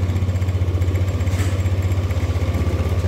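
A motorcycle engine idles at about 1600 RPM, close and steady, with an even low throb and a fast regular pulse that holds for the whole stretch, no voices.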